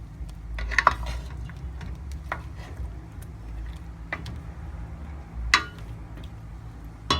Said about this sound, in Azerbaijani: Yenə də qarışdırıram.